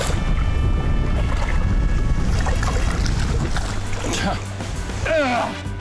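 Strong wind on a river during smallmouth bass fishing roars and buffets loudly against the microphone for the whole stretch, with a voice briefly heard near the end.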